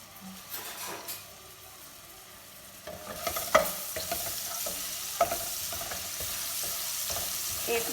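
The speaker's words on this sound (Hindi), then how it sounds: "एक मिनट तक इसको जो है फ्राई करते हैं।" Garlic fries in about a tablespoon of cooking oil in a pan, a soft sizzle under clinking stirs and scrapes that grow louder and more frequent after the first few seconds, no talking.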